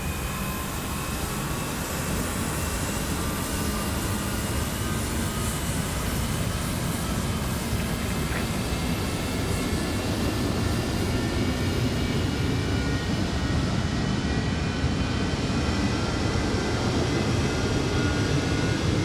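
F-4 Phantom jet engine spinning up, a steady, loud, broadband roar with a rising whine that holds continuously throughout, no voices over it.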